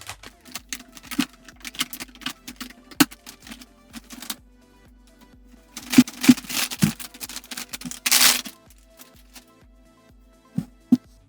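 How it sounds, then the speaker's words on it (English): A new ASUS Prime RX 9060 XT graphics card is unwrapped from its packaging, giving close crinkles, taps and rustles at an irregular pace, with a longer burst of plastic crackling partway through and no voices. "Okay, time to unwrap this GPU."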